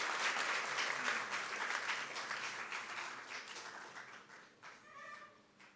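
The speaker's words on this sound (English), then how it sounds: "Please give them a big round of applause" Applause from the audience at a memorial service in Nairobi for senior counsel Pheroze Nowrojee, a steady wash of many hands clapping that slowly thins out toward the end.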